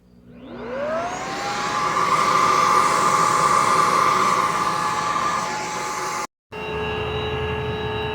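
A Bissell PowerClean stick vacuum whirs up to a loud, steady roar nearby, cuts off abruptly, then restarts with a different, higher-pitched whine.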